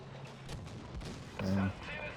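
Tank cannon fire in the video game Battlefield V, a single heavy booming shot partway through with a low rumble, heard under game sounds and a voice.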